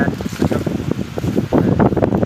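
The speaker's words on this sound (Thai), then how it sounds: "ลมแรงนะ ลมแรงสักหน่อยครับวันนี้" Strong wind gusting outdoors at a house construction site with grass being cleared, a loud continuous buffeting rush that swells and surges without pause and with no talk.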